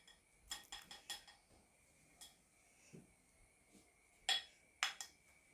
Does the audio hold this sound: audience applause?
no